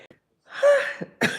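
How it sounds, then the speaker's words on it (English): A dog named Gigi snores close by: a drawn-out, rattling nasal snort followed by two shorter snuffling breaths, with no one talking. "Gigi, my dog is snoring"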